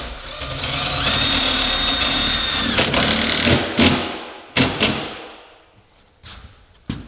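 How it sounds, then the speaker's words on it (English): Power drill driving a wood grip screw with a neoprene washer into a metal roof, a loud close whine for about three seconds followed by several sharp knocks and short bursts. "install the screw. As you can see, we're using a wood grip screw with a neoprene washer."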